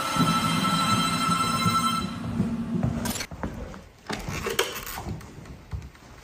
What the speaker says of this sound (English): It just said that it made the phone ring.